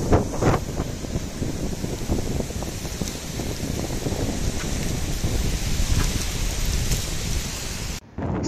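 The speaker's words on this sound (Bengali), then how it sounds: "বৃষ্টি এত বেশি ছিল যে বৃষ্টিতেই আমি অলরেডি ভিজে গেছি।" A heavy rainstorm lashes Kuakata sea beach in stormy low-pressure weather. Dense, loud, continuous rain mixes with gusting wind buffeting the microphone, ending in a brief cut near the close.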